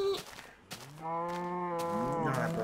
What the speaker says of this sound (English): There's cows.